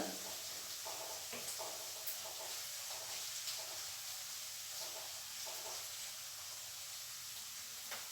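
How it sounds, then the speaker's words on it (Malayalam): Ginger fries in a small amount of oil with a soft, continuous sizzle and faint crackling bursts, steady and low in level throughout. "കുറച്ച് എണ്ണ ഒഴിച്ചിട്ട് ഇഞ്ചി കുറച്ച് വീതമായിട്ടാണ് വറുത്തെടുക്കുന്നത്"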